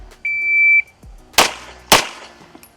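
A shot timer at a shooting range gives one steady, high electronic beep of about half a second, then two sharp, loud gunshots about half a second apart, each with a short ringing decay.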